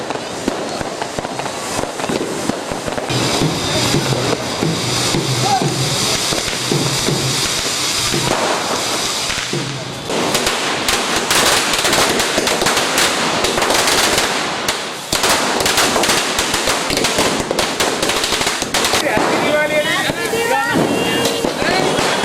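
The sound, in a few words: firecrackers bursting at Diwali celebration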